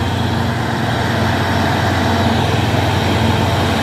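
A truck passes close on a climbing hill road, its heavy engine roaring loud and steady with dense road noise and no pauses.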